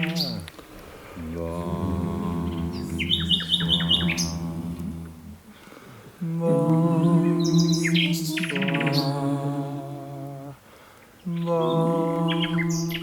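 Nightingales sing in the dark outdoors, loud rich phrases of whistles, trills and rapid chirps that repeat in bursts with short pauses between them.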